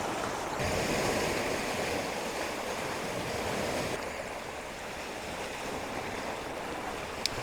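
Ocean waves break on rocks near a lighthouse, a broad, steady rushing wash of surf that swells and eases over several seconds, close and continuous with no voices.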